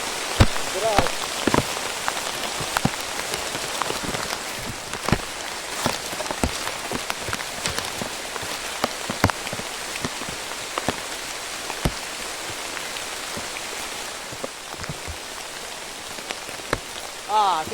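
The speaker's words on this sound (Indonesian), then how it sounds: "Hujan pula di Banten. Oh, hujan." Heavy rain pours at a campsite in Banten, a dense steady hiss of drops on surfaces with sharper nearby drips throughout, while a voice speaks faintly in the background.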